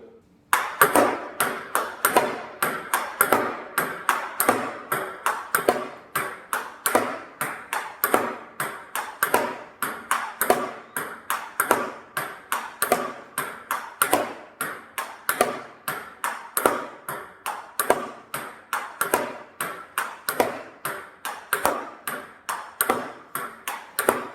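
A table tennis ball strikes a paddle's new Tuttle Heart K rubber again and again in a steady rally rhythm, each hit a crisp, close pock with bounces between; unboosted rubber.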